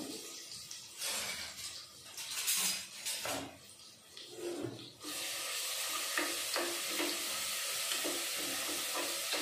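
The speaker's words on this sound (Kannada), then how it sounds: "ಸ್ವಲ್ಪ ಫ್ರೈ ಮಾಡ್ಕೊತೀನಿ." Masala for paneer pulao frying and being stirred in a pan: scraping and stirring strokes at first, then a steady, loud sizzling hiss that fills the rest of the time, with no talking.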